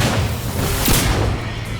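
Loud, dense blast and rumble of a rocket explosion in the shooter game Singularity, a sustained booming roar filling the whole moment with no talk over it.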